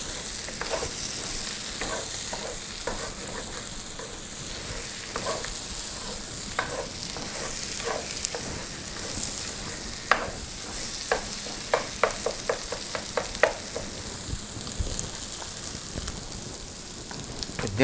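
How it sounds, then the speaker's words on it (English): Sausage in thick red gravy being stirred in a pot, a steady bubbling sizzle with a run of sharp scraping clicks from the spoon against the pot, busiest toward the end, no talking. "Got that stirring up in there good."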